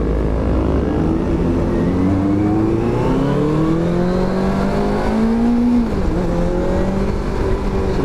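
A Benelli TNT600i 600cc four-cylinder roadster accelerates hard, engine pitch climbing steadily through the revs with a brief dip at a shift, loud and continuous over wind noise.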